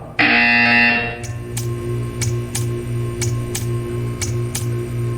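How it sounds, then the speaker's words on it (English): A loud electronic buzzer in the video game Portal 2 blares for about a second, then a steady series of sharp ticking clicks follows at an even rhythm over a low mechanical hum. "You will hear a buzzer."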